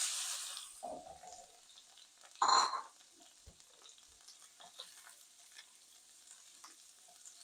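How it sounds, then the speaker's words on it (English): Shrimp sauté in melted butter in a pan, giving a faint, steady sizzle with light stirring and one brief louder clatter. The whole sound stays quiet and close. "So when the butter starts melting, I'm going to saute this shrimp."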